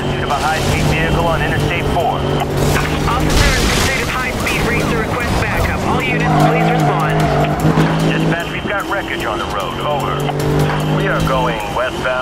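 High-speed police pursuit in the racing game Need for Speed Rivals, with roaring engines, shifting revs, squealing tires and impacts, loud and continuous with game radio chatter over the top.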